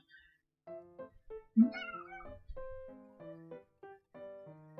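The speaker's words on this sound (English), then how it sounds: "we got a surprise kitty cat." A house cat meows repeatedly up close, a string of short and drawn-out mews with pauses between them, clear and fairly loud against a quiet room.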